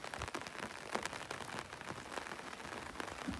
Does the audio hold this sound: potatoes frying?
no